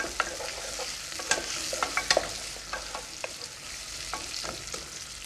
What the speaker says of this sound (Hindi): और इसके बाद इसमें ये स्लाइस प्याज डाल दें आप। और इस प्याज को भून लें।